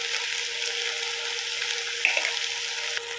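Potatoes frying in oil with turmeric and salt give off a steady soft hiss, with a brief stirring scrape partway through, no talk.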